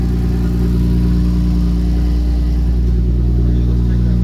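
A turbocharged Lexus IS300 engine runs at a steady, loud idle with a deep rumble. The engine has a new manifold that is burning off WD-40 and oil.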